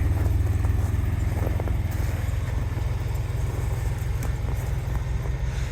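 A Chevy Blazer's 2.8L engine idling steadily after sitting for about three months, a close, continuous low rumble with an even pulse and no voices.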